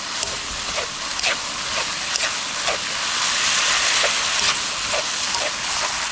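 Fish cake stir-fries in a bubbling soy-sauce mixture for japchae, a steady hissing sizzle broken by regular scraping clicks of a utensil against the pan, fairly close, with no speech.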